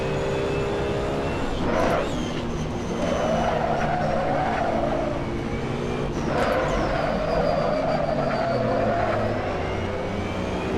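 GT3 race cars in Assetto Corsa on the Nürburgring, engines droning steadily with rising and falling pitch through gear changes, and tires squealing in drawn-out bursts, loud and continuous.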